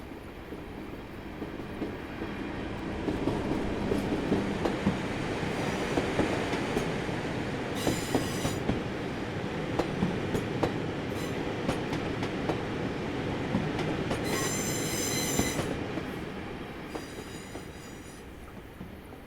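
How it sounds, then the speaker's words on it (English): Class 31 diesel locomotive 31165 in a train simulator approaches a viaduct, its engine a steady rumble with rhythmic wheel clatter and occasional high squeals from the wheels, no voices. "31165, also known as D5583 Stratford Major Depot, is seen approaching Godfrey Hull Viaduct after departing Miller's Green."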